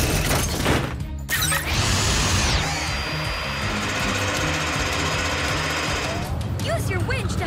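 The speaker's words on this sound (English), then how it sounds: "Zuma, use the mini drill to make post holes" A cartoon mini drill boring post holes at a construction site, heard as a busy mechanical whir with a rising whine and clattering bursts, mixed with background music and effects at steady loudness.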